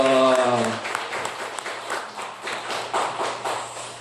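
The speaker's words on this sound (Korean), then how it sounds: "우리 하나님 앞에 영광의 박수 올리겠습니다" A church congregation applauds during a Sunday service, a sustained patter of many hands that follows a brief sung or spoken voice at the start and stays moderately loud to the end.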